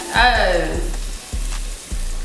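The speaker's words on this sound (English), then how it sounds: "I got the pan on a medium-high heat. I'm gonna go ahead and dump my garlic over in it, get a good simmer on the garlic" Garlic dropped into a pan on medium-high heat bursts into a loud, close sizzle, then settles into steady frying broken by a few stirring knocks.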